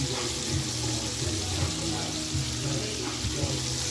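Catfish nuggets fry in a large, well-loaded fryer, giving a dense, steady sizzle and crackle close by, with no talking.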